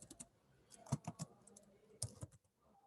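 Scattered keystrokes on a computer keyboard tap out a line of Java code, faint and close, in two short clusters of clicks.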